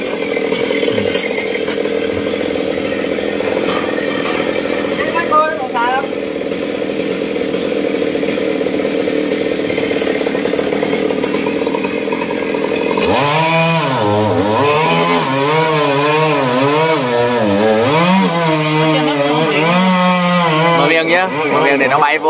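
A loud Stihl chainsaw drones steadily, its engine pitch rising and falling as it bites into a tree beside power lines, with people talking in Vietnamese over the noise.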